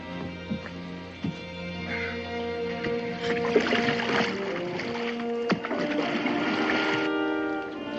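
A boat is paddled on water in a Western film scene, giving a steady wash of splashing and dipping strokes that rises in the middle, mixed with tonal music-like sounds and occasional knocks, with no clear talk.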